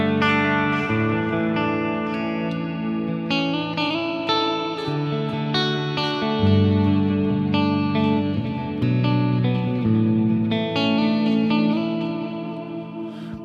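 Electric guitar played through a Line 6 Helix Heliosphere block, combining delay and reverb, rings out in sustained chords and notes with repeating echoes and a washy tail, loud and continuous with no talking.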